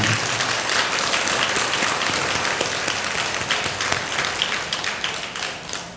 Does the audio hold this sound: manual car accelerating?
no